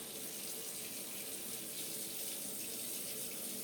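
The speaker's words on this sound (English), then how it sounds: "and add lukewarm water." Lukewarm water runs steadily from a tap into a cup, a constant close hiss and splash lasting several seconds with no talking.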